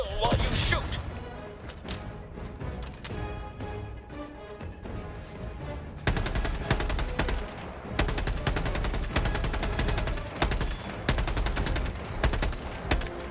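Rapid automatic gunfire from the Helldivers 2 video game rattles in sustained loud bursts, growing denser and heavier midway, with someone talking over the shooting.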